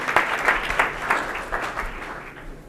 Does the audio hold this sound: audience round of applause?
yes